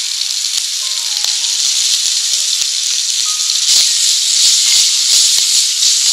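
Fresh sweet corn hits a hot pan with cooked garlic and ginger, setting off a loud, steady hiss and sizzle that swells midway, close and without talk.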